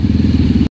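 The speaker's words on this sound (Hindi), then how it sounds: "तो बाइक सारी स्टार्ट है" Several motorcycles, a Honda CBR 600 among a Kawasaki Z900, idle together at close range, giving a steady loud engine rumble with a clattering texture for under a second before cutting off.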